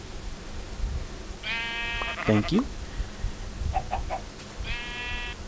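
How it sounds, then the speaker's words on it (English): Sheep bleating in the block-building video game Minecraft, with several short wavering bleats from a baby sheep and a large sheep spaced across the clip, alongside brief game clicks and a voice speaking over it. "So you got a tiny sheep, a little baby sheep, and a big sheep."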